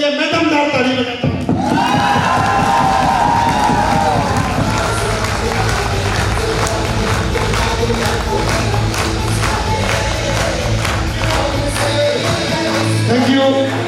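A hall audience claps and cheers loudly and continuously after music cuts off, dense applause sustained throughout with occasional voices rising above it.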